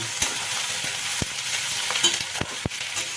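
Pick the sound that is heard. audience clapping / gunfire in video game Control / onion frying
onion frying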